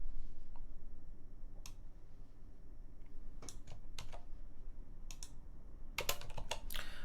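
Scattered keystrokes on a computer keyboard, heard as faint isolated clicks that thicken into a quicker burst of typing at the end, over a steady low background hum, with no voices.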